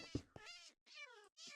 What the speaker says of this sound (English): Okay, poor cat.